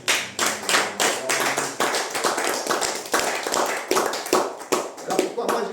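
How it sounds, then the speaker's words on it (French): A church congregation claps loudly in a steady rhythm of sharp, dense hand taps, with crowd noise and voices mixed in. "Est-ce qu'on peut acclamer très fort le Seigneur?"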